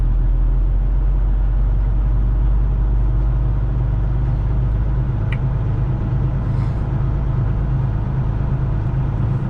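A truck drives along with a heavy, continuous low engine rumble that stays loud and steady throughout.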